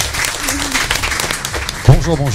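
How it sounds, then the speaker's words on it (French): Applause from the crowd at a live radio game show, a moderate burst of clapping heard under a presenter who keeps talking over it, with his voice rising prominently toward the end. "On peut l'applaudir."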